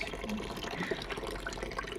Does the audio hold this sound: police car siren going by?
no